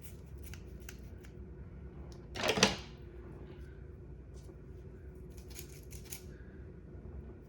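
Scissors snip through wig lace during a glueless bob wig install, a single short crisp cut near the microphone against a quiet room background.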